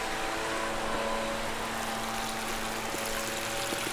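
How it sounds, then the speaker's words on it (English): Permethrin solution pours and floods into cicada killer burrows in the ground, a faint, steady trickling wash of water with no talking over it. "You can see the water flooding down into their hole."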